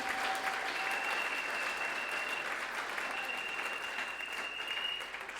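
A church congregation applauds to acclaim the Lord Jesus during a French-language sermon, steady sustained clapping filling the room for several seconds at moderate distance, with no talk over it.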